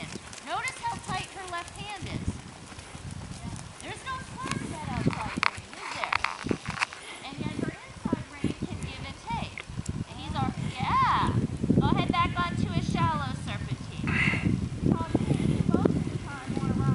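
Horse hooves clip-clopping steadily during a dressage riding lesson in an arena, a rhythmic series of soft nearby hoof beats mixed with snorts and tack sounds, while a person talks over them throughout.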